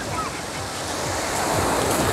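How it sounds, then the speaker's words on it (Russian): Stormy sea surf pounds a beach, a loud continuous roar of breaking waves with wind buffeting the microphone. "Да, действительно, у нас море штормит."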